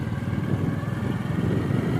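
A motorcycle runs close by with a steady mid-pitched engine drone and no pauses while it rides along a village road toward the fields.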